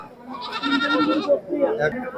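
Goats and sheep bleat at the Talgachhi sheep and goat market in Shahjadpur, Sirajganj, in overlapping, wavering calls close by that run for about two seconds.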